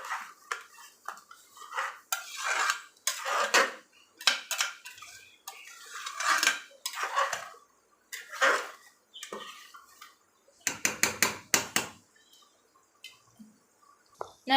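Metal spoon scraping and clanking against a cooking pot while mutton gravy is stirred, in repeated bursts of scraping strokes with short pauses, close and fairly loud, ending in a quick run of rapid clinks.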